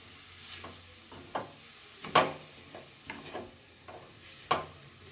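Momo vegetable stuffing being mixed with black pepper and salt, a spoon scraping and stirring through the filling in a series of short, close rustling strokes with brief pauses, no talking.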